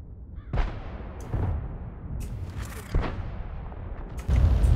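Tank cannon fire in the World of Tanks video game, a handful of deep booming shots spaced through a rumbling battle soundscape, mid-distance and moderately loud, with the heaviest blast at the end.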